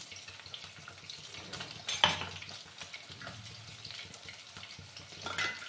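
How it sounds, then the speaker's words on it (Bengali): Pieces of rohu fish fry in a pan with a soft, faint sizzle that runs continuously, with a brief clatter near the start and light kitchen handling sounds. "আমার মাছগুলো ভাজা হতে থাক"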